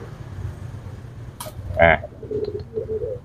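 A male pigeon gives a short burst of cooing close by, with a brief flutter or tap just before and softer low coos trailing after against quiet background noise.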